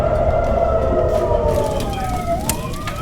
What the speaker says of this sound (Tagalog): Ang mga sirena umalingaw-ngaw sa mga kalsada.